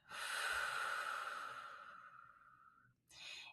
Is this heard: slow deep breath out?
yes